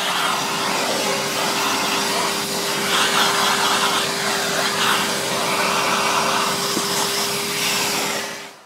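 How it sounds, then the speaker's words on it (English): A vacuum cleaner runs steadily on the leather seats of a Bentley Turbo R during an interior clean, giving a constant close whine and rushing airflow with a faint tonal hum throughout and no voices. "When vacuuming leather seats,"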